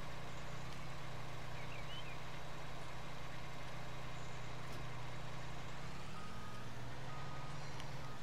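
Video game truck backing in with a steady, continuous engine hum and a faint repeating reversing beep over a constant mechanical drone.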